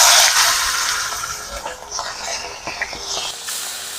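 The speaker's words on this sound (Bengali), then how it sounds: "এবারে মাছগুলোকে ভেজে নেব" Pieces of bok fish frying in hot mustard oil, a loud, dense hiss with crackling spatter that eases slightly and turns more uneven toward the end, with no talking.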